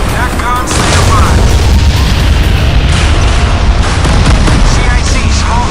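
Warship deck gun firing in the naval combat game Modern Warships, heavy booming blasts layered over dense battle noise and a rumbling low roar, loud and sustained with radio-style voices underneath.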